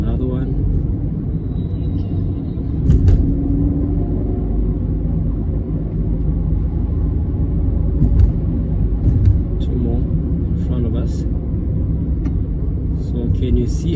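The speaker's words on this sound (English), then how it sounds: "See, he has two more of these minibus taxis traveling up." Minibus taxis move through Johannesburg city traffic, making a steady deep engine rumble with a few faint thumps and rattles over the continuous drone.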